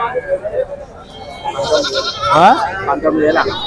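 Goats bleating at a livestock goat market, a couple of close, wavering bleats rising over crowd chatter and people talking nearby.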